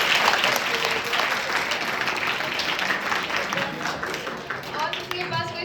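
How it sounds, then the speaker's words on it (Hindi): Schoolchildren at a TB awareness camp clap loudly together in a dense burst of applause, fading slightly before a short rise at the end, with faint voices mixed in. "कि जोरदार तालियां बजा दो।"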